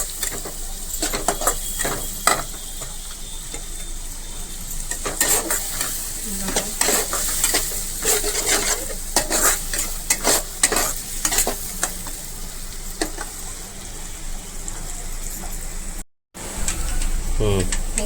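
Chopped onions sizzling and frying in oil in a pan while being stirred for an okra curry, with steady crackle and repeated scraping strokes, a brief gap near the end.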